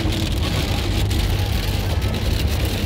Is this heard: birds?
no